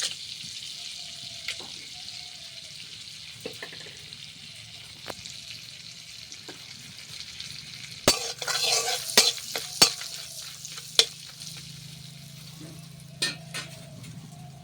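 Whole garam masala spices, cinnamon sticks, cardamom pods and cloves, frying in a pan, giving a faint steady sizzle with a few sharp crackles and clinks of stirring, no voices.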